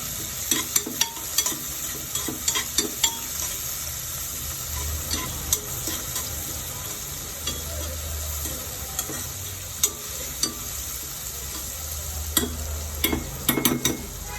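A handful of small onions (shallots) fries in a pan for kalathappam: a steady close sizzle broken by repeated sharp scraping and stirring clicks, with no talking.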